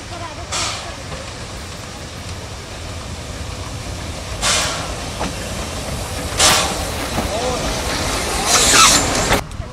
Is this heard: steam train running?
yes